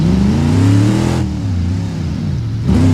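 A car engine from the CJD Special Tunes mod in BeamNG.Drive revs in a racing game, holding a steady rough drone before easing off, then picking back up at the end, close and loud with no talk.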